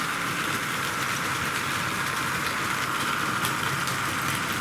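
A Rivarossi Union Pacific Big Boy 4-8-8-4 model train rolls steadily around a Tri-ang layout, a continuous whirring rumble with faint clicking at rail joints, loud and close throughout.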